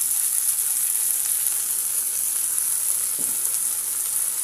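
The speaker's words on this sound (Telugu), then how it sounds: "లైట్ బ్రౌన్ కలర్ వచ్చిన తర్వాత మనం కట్ చేసుకున్న టమాటా వేసుకున్నాం." Chopped tomato with salt sizzles steadily in a hot pan after lightly browned onion, a constant bright hiss of frying that holds at even loudness throughout.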